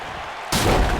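A wrestler slams down onto a ringside table that holds without breaking, a single sudden heavy crash at mid-clip that lands loud and broadband on top of steady crowd noise.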